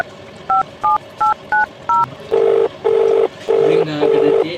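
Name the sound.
phone number being dialed, keypad tones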